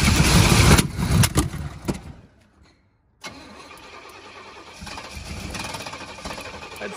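Pontiac GTO engine with its timing off, cranking loudly and stumbling before cutting out to near silence, then starting again and settling into a rough, uneven idle close by.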